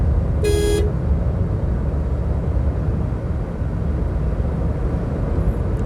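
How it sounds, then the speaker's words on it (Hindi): A Suzuki Alto car driving at speed toward 80 km/h, with steady loud road and engine noise throughout and a short horn toot near the start. "तो मैं इसको थोड़ा सा एक्सेलरेट करके 80 पे लेके जा रहा हूँ।"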